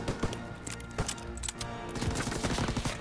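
Rapid gunfire crackles through a Call of Duty: WW2 battle, dense overlapping shots and sharp bangs with a busy rumbling backdrop and no voices.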